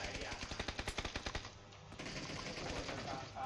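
A rapid burst of machine gun fire in a PUBG match rattles out loud and close, about a dozen evenly spaced shots in the first second and a half, followed by a dense rushing din of gameplay sound.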